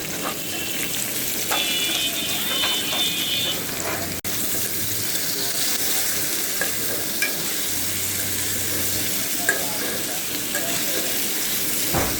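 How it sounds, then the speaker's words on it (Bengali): Pointed gourd (potol) frying with onions in a pan, a continuous bright sizzle with occasional spatula scrapes and clinks, plus faint background voices and a brief tap-like rush. "এই যে পটলটাকে এখানে ভাজতেছি।"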